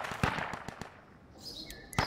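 Several sharp, fairly distant gunshot cracks in Project Reality, one burst close together early on and another single report near the end, with bird-like chirps in between.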